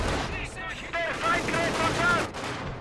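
A machine gun fires in the World War II strategy game Company of Heroes 2. Continuous rattling bursts mix with distant battle booms, and a voice talks over the shooting.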